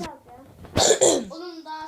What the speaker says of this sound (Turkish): öksürdüğüme bakmayın hastayım